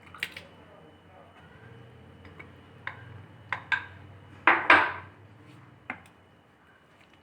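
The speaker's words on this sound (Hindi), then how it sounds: "और इसे मिक्स कर लेंगे।" Jelly being stirred into a sweet Lab-e-Shireen dessert in a handi gives a series of scattered spoon clinks and scrapes against the pot, soft and close, with a couple of louder knocks near the middle.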